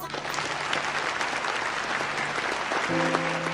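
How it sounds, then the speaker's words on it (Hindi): Dense, steady clapping from a crowd, sustained and even throughout, with some musical tones sounding faintly underneath. "जोरदार तालियां हो जाए"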